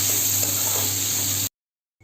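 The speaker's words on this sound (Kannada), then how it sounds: "ಈಗ ಬದನೆಕಾಯಿ ಎಲ್ಲ ನೀಟಾಗಿ ಫ್ರೈ ಆಗಿ" Brinjal (eggplant) fries in oil in a pan, giving a steady, close hiss and sizzle that cuts off abruptly into silence before faintly resuming.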